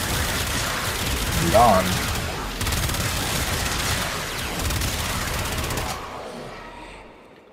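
Projectile gun bursts and explosions from the Exodus Whisper in Warframe, a sustained, dense barrage of shots and booms against corrupted enemies that fades out at the end, with a brief spoken word over it.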